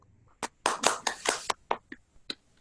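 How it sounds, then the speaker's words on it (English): Scattered applause from an audience at an elocution competition, a handful of sharp separate claps and short bursts rather than a sustained ovation, fairly close and with no talking over it. "A round of applause for them."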